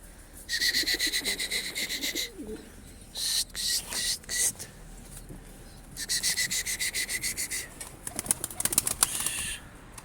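A Mardin Dumanlı Perçem pigeon beats its wings close by in several quick rhythmic bouts of flapping, each lasting a second or two, separated by short quiet gaps.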